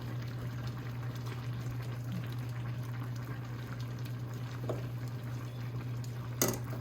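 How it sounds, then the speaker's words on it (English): Smothered ribs simmer in a pot, a soft continuous bubbling under a steady low hum, close but fairly quiet, with one brief clink near the end and no talking. "these are going to finish simmering"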